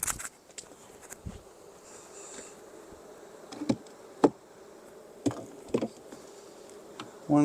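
Honeybees buzzing while backyard colonies are split, a steady near hum of many bees with scattered clicks and knocks of hive frames being handled.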